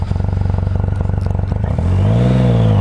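A Triumph Rocket 3 motorcycle with a 2.3-litre engine revs loudly up close, a deep, pulsing rumble with rapid firing beats that then rises and settles into a steadier, smoother drone.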